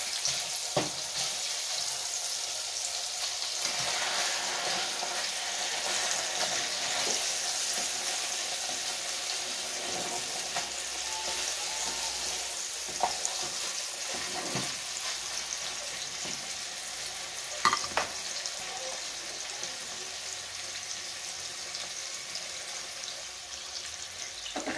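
Garlic butter pork chops frying in a pan give a steady, bright sizzle that fills the whole stretch, close up, with occasional soft clicks and pops and no talking.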